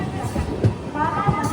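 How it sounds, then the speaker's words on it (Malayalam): An Ernakulam–Velankanni weekly express sleeper train pulls into Rajapalayam station on a slight curve, giving a steady low rolling rumble with voices and crowd murmur on the platform throughout. "ട്രെയിൻ ഇതാ രാജപാളയം റെയിൽവേ സ്റ്റേഷനിലേക്ക് എത്തുകയാണ്."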